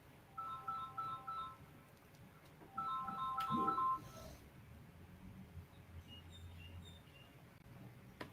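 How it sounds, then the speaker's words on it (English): A phone ringtone chirps during a spiritual lecture, repeating short electronic tone bursts in two groups, then a later fainter set, heard alone over room hum without talk. "Don't know who's trying to phone."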